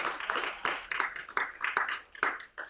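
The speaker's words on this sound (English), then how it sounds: "So let's give her a round of applause." A community gathering audience gives a woman a round of applause, a fairly faint, uneven patter of clapping with soft swells and dips over a couple of seconds.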